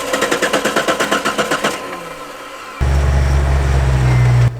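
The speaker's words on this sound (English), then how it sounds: "Since the Jeep wouldn't crank" A Jeep at an offroad park cranks with a rapid rhythmic starter chug that fails to catch, then a pause, then a loud steady engine or winch drone from a vehicle close by.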